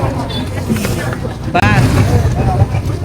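A river trawler's engine rumbles steadily beneath people talking nearby on the boat, with a short break in the noise midway.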